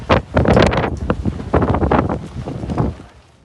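Strong wind gusts buffeting the microphone during a desert dust storm at a festival, coming in two heavy roaring bursts that swell, ease off, then swell again before fading.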